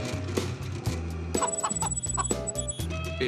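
A chicken clucks in short, close bursts, a few soft clucks followed by a quicker run of higher calls, over a low background hum.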